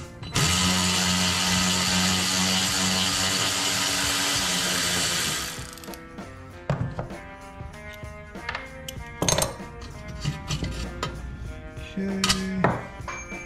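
A ratchet clicks in short bursts while bolts come off a brake pedal during a hydroboost brake swap on a Coyote-swapped Mustang. A steady loud whir plays first, then quieter intermittent metallic clicks and clanks follow.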